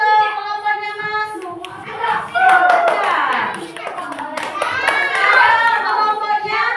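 A children's class claps for a group, a burst of many small hands near and loud, with a teacher and kids talking over it in a classroom.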